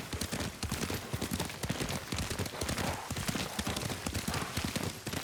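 Horse hooves clip-clop steadily while a rider travels on horseback in the samurai video game Ghost of Tsushima, a dense, continuous, fairly close galloping rhythm with no voices.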